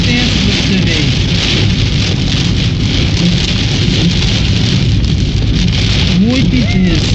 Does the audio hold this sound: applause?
no